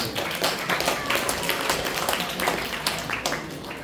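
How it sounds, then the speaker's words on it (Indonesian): Applause from an audience at a youth talk show, loose and uneven clapping from many hands that surges and fades in waves, with some background voices. "Tepuk tangan buat kalian."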